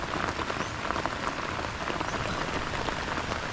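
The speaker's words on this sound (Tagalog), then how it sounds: "Umuulan kami ngayon" Steady rain patters on surfaces outdoors, a dense, even hiss of drops close by with no pauses and no talking.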